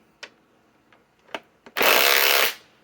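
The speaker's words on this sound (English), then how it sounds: "is with the impact wrench" A Ridgid subcompact impact wrench runs in one loud burst of under a second, set after a few sharp clicks and taps, close and alone.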